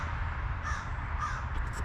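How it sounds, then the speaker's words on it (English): Crows caw a couple of times at moderate distance near a bait spot outdoors, the calls set over a steady low wind or ambient rumble. "These crows think they like my bait."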